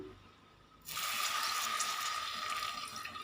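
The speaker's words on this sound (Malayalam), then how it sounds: "ഇതിലേക്ക് നമുക്ക് വെള്ളം ഒഴിച്ചു കൊടുക്കാം." A steady stream of water starts suddenly and pours continuously into a clay pot, a bright rushing splash close by with no voices.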